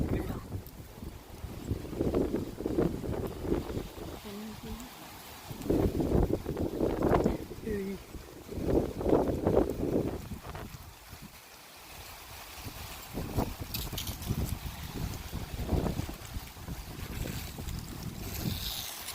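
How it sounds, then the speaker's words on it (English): High winds blow outside in the dark during a power outage, a continuous rushing roar with gusty swells, and voices talk now and then over it. "Windy, windy."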